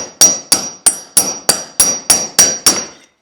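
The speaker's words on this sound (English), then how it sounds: "take your hammer and just start knocking it down and you just drive it out" Nine sharp, evenly spaced hammer blows ringing on metal as a bushing is driven out of a mower wheel, loud and close, each strike followed by a brief metallic ring.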